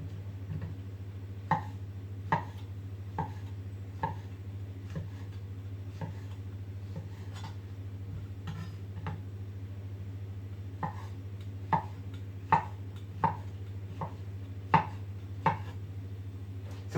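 Mushrooms being sliced with a knife on a board for a Zurich tranché dish, a slow series of crisp, separate knife taps over a low steady hum, some louder and nearer than others.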